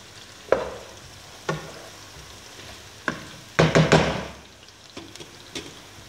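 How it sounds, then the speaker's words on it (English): A low sizzle of food frying in oil runs underneath, broken by occasional sharp knocks and a brief scraping clatter from a utensil in the pan. "that's frying up now."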